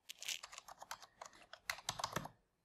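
Laptop keyboard typing: a quick run of crisp, close key clicks in an uneven rhythm, with a short pause before a second burst of keystrokes.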